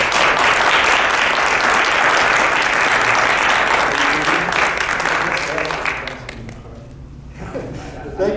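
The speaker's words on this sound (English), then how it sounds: "So please clap for our guest speakers." An audience applauds guest speakers, a Swami and a rabbi, at an interfaith religious harmony event. The clapping is dense and sustained for about six seconds, then thins out and fades into quieter room sound.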